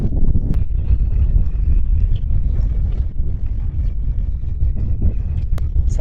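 Strong wind of 25 to 30 knots gusts across a harbour in hot, stifling weather, a loud constant roar buffeting the microphone for the whole stretch with no pauses.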